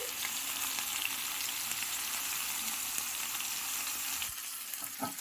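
Bitter gourd pieces fry on a slow flame in a steady, close, even sizzle, with occasional stirring scrapes and a brief clatter near the end; no one talks.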